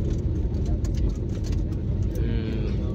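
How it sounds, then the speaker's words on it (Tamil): Steady engine rumble and road noise from inside a moving car in Surat, Gujarat, a continuous loud drone with no voices. "நம்ம இப்போ காரில் போயிட்டுருக்கோம்"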